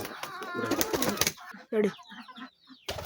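Domestic pigeons, including a red pair, make soft cooing and fluttering sounds close by, interrupted by a person talking loudly over them at the start.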